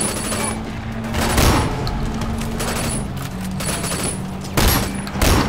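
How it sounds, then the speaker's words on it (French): Shotgun blasts in the video game Sleeping Dogs sound as loud, booming reports at irregular intervals, mixed with gunfire clatter and other action noise. "C'est pas facile avec le fusil à pompe, hein."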